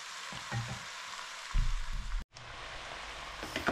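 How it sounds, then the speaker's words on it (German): Mushrooms fry in a pan for vegan bigos, a soft steady sizzle with occasional low stirring thumps and a brief dropout midway, fairly faint and close. "Jetzt sind die Pilze schon etwas kleiner geworden. Und einfach weiter braten."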